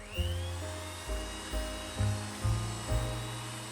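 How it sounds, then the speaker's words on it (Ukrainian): An electric mixer whipping the sweet mixture for a lemon-poppyseed Easter paska into a fluffy foam, a steady whirring drone that dips and surges as the beaters are moved through the bowl, close and alone. "І збиваємо все міксером до утворення пухкої, до утворення піни"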